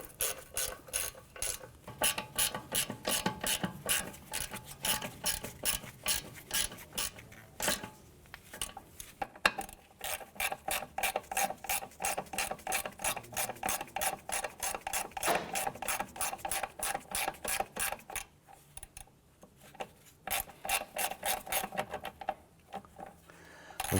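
A ratchet wrench snugs down front strut bolts on a 2004-2008 Acura TL, producing long runs of rapid, sharp clicking strokes close by, broken by brief pauses between bursts.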